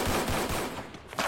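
Pistol gunfire in the Free Fire battle royale video game, a quick burst of several rapid shots in a row, loud and close.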